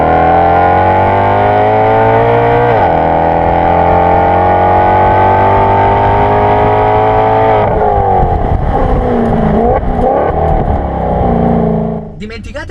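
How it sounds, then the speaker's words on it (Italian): A 2018 Maserati GranTurismo with a 4.7-litre naturally aspirated V8 in Sport mode gives a loud, close, rising exhaust howl that climbs through gears with a shift near three seconds, then turns to a rougher, burbling, lifting note before fading. "piazziamo su Sport per sentire questo scarico a chilometri di distanza"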